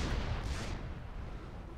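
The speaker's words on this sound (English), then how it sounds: "My favorite thing in this game, the giant unit cannon." A giant unit cannon in the Supreme Commander 2 strategy game fires with a booming launch blast that trails into a fading rumble, loud at first and then dying away, with no talk.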